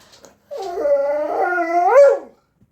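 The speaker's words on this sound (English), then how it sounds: "don't bark. It's really loud when you bark." A single close, loud dog howl, drawn out for nearly two seconds and rising in pitch before it breaks off.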